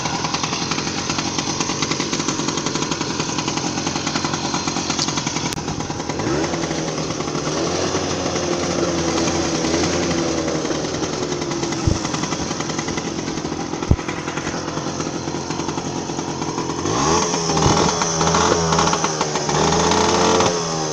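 A Puch moped's two-stroke engine with an exhaust leak runs loud and raspy without letup, a buzzing, chattering drone with a few revs and sharp clicks, steady and close the whole time.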